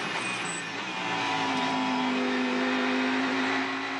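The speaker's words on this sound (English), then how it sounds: "Listen to the engine." A race car engine at the Bathurst 12 Hour drones steadily, holding a constant pitch throughout, loud and close, with no talking.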